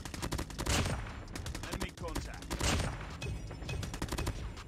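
Gold M4 assault rifle in Call of Duty Mobile firing rapid, loud automatic bursts in quick succession, sharp and close, with a voice speaking faintly underneath.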